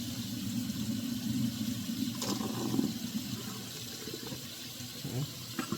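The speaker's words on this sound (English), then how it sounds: "let me let this water out because this water is still not clear clean" Rinse water pours and drains out of a pot of pork neckbones in a kitchen sink, a steady rushing splash with a few clinks and knocks near the end.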